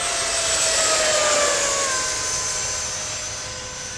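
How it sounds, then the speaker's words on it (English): A remote-control Freewing or E-Flite F-16 model jet flies past with a steady, high-pitched turbine whine and a gently sliding pitch, fairly loud at first and slowly fading as it moves away, with no voices. "hey, where's my airplane going?"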